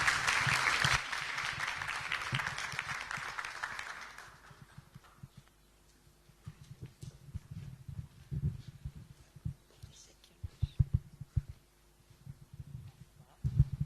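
A burst of audience applause at a short film competition, welcoming a film crew onto the stage, lasts about four seconds and fades out, followed by quiet room noise with scattered thumps and shuffling.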